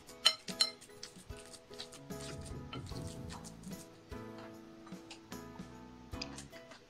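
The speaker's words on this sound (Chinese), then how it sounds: "红薯泥有400克，先把它简单的压碎。" About 400 grams of steamed sweet potato is roughly mashed in a large bowl, giving soft scraping and irregular light clinks against the bowl, close and fairly quiet, with no speech.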